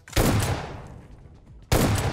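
Loud, close automatic gunfire in Battlegrounds Mobile India: a dense burst of rapid shots fading out, then a second burst starting abruptly after a short gap, with no talking.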